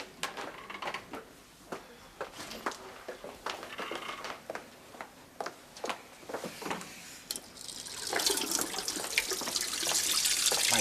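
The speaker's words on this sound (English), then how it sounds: "I'm just running some cold water on my wrists." Cold water runs from a tap into a sink, preceded by intermittent knocks and splashes, then a steady close hiss of flowing water for the last few seconds.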